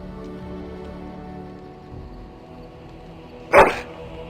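A dog in Dragon Age Origins gives a single sharp, loud bark near the end, standing alone over a low, quiet ambient hum.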